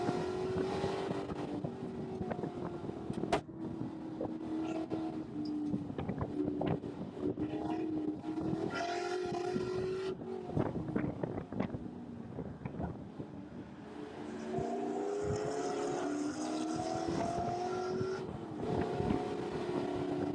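Onboard a Spec Corvette race car during a race up and down a hilly track, the engine drones and shifts pitch as the revs rise and fall, with wind noise buffeting the microphone throughout.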